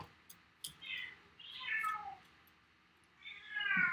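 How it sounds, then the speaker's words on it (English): A cat meows several times in drawn-out, wavering cries, close by and fairly quiet, with short pauses between calls. "cat is being supremely noisy today."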